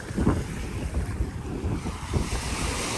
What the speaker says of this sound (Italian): C'è una risacca abbastanza importante